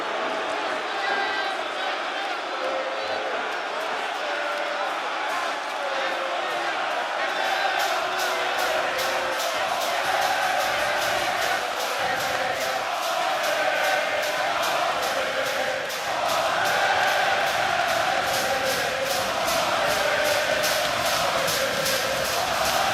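A large wrestling arena crowd at an AEW Dynamite show in the UK cheers and chants continuously, a loud, sustained roar with rhythmic chanting building through the second half.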